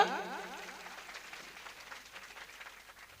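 An audience at a Hindu religious discourse breaks into applause, a loud burst of clapping at the start that quickly fades into scattered, softer claps.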